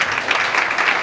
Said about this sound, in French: Peut-être qu'on peut applaudir ceux qui ont intervenu.